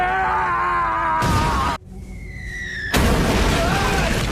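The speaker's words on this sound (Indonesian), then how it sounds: "Kenshin yang melihat ke arah suara bom tersebut berasal" A bomb explodes in the Rurouni Kenshin The Final film, giving a loud roaring burst that cuts out abruptly. A quieter passage with rising tones follows, then a second heavy rumbling blast swells up, with no talking.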